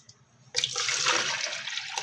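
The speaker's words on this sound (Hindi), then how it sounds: "अब हम इसमें पानी डालेंगे।" Water pours steadily into a metal pressure cooker holding black lentils, a loud rushing gush starting abruptly after a brief quiet moment and continuing to the end.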